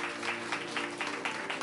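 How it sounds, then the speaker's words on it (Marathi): A church congregation claps together in praise, a dense, even patter of many hands that keeps a steady rhythm throughout, fairly close and loud. "जरा जोरदार टाळ्या प्रभूच्या गौरवासाठी."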